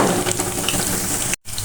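Steady, dense sizzle of lentil and shrimp pakoras frying in hot oil, close and even, with a brief cut near the end.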